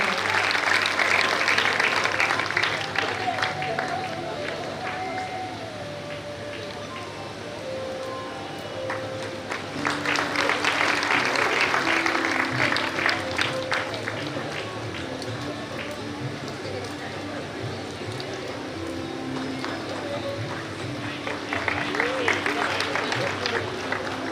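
Audience applause at a community award ceremony honouring students, swelling into loud, sustained clapping in three waves, with a speaker's voice on a microphone between and under the bursts.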